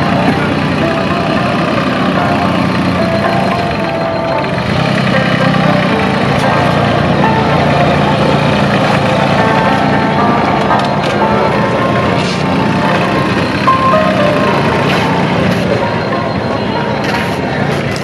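A Captain 283 4WD tractor engine runs steadily at close range during a tight-radius turning demonstration, a continuous low rumble throughout.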